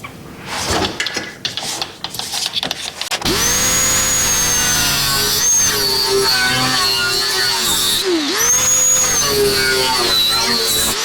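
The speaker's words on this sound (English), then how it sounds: "So I just need to cut those, cut it with a grinder." An angle grinder cuts through a motorhome kitchen countertop with a loud, sustained whine whose pitch sags briefly under load, after a few seconds of clattering as the piece is clamped down.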